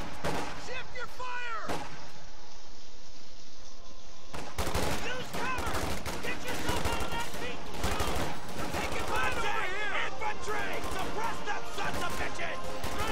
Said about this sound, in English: Sniper taking shots at range on the rifleman there